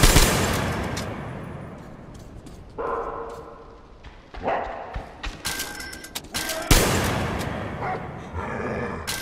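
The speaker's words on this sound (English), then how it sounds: "Taking fire!" Bursts of gunfire in the video game Metro Exodus during a truck-boarding mission, sharp volleys and scattered shots mixed with loud, barking-like bursts, fairly close and forceful.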